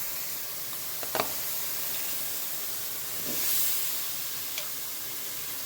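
Potatoes going into a hot pan for a home-style rohu fish and cauliflower curry, a steady bright sizzle and hiss with a couple of small pops and a brief swell, no talk.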